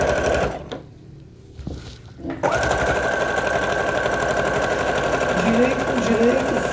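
A sewing machine stitches a seam on a felt bag for a doll, running steadily and loudly with a constant motor whir after a brief start-stop; someone speaks softly at the start.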